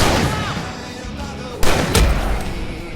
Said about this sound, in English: I can set off more of the fireworks from here!